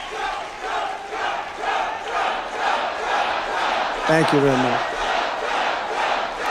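A comedy show crowd cheers and shouts in a steady roar, with one voice yelling above the noise and the performer speaking briefly over the crowd.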